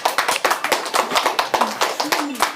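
Children on a Ramadan television show clap in a quick, loose rhythm of distinct close slaps, with a voice speaking briefly underneath.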